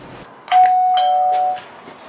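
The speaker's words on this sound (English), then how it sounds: "Nifty little doorbell they got there." A doorbell gives a single clear electronic chime lasting about a second, heard close and loud over a quiet room background.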